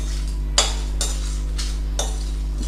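Spices for Aagri masala are stirred and sautéed in a pan, with a spoon scraping the metal in a few separate strokes over a constant low hum.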